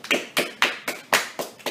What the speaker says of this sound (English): So everyone applaud that.